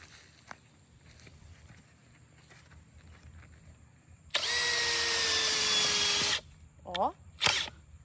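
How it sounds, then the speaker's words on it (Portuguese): A cordless drill-driver fitted with a homemade welded auger bit bores into soil outdoors in one loud, steady whir of about two seconds. Short motor spurts and footsteps follow, and voices are present. "Quem precisa de perfurador de solo quando você tem uma parafusadeira e uma ideia na cabeça?"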